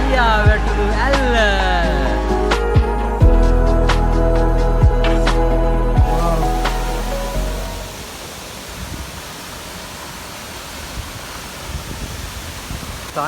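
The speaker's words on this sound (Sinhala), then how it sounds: "මේ තමයි තලියවැටුණු ඇල්ල." The Taliyawatunu waterfall at Alakolla Estate, Matale, sends up a steady, loud rushing roar. It is preceded by several seconds of tonal sounds, then continues alone and evenly to the end.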